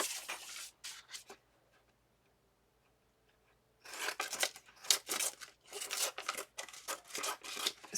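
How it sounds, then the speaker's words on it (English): Scissors snip and trim packaging for a junk journal, with a short burst of cuts, a pause of near silence, then a longer run of brisk, close, rasping snips and rubbing. "Sticky scissors."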